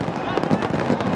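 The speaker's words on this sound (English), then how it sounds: "we saw fireworks from over number one to seven. It's going off, the laser show in the middle, even the lights." Fireworks burst over a crowded Shere Bangla Stadium in Dhaka during a cricket final, a dense crackling roar blended with crowd noise and loud commentary voices.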